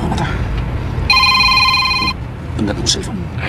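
A cellphone rings with a steady electronic tone lasting about a second, over a continuous low background rumble with faint voices around it.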